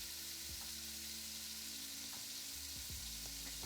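Pork sears in a hot pan for pork ragu, giving a steady loud sizzle and crackle throughout with a low background hum and a few faint scrapes.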